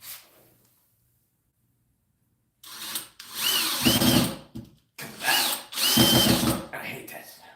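Power drill driving pocket hole screws into wood in a workshop, two close, loud bursts of whirring drive separated by a short pause, following a stretch of near silence.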